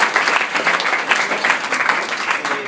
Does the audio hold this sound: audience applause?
yes